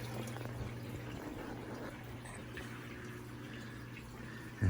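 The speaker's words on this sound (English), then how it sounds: "I have a nice little cascading waterfall right there, so that's making noise." Water cascades over a baffle in a 200-gallon saltwater aquarium setup, a soft constant trickling and splashing rush with a low steady hum beneath, faint and unbroken throughout.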